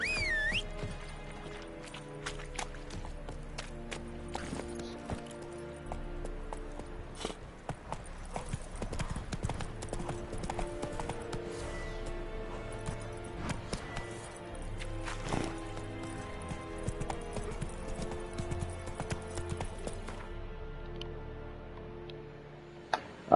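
Roach the horse trotting in the Witcher 3 video game, with steady clip-clop hoofbeats running throughout over a layered game soundtrack, occasional sharper knocks and a faint whinny-like tone.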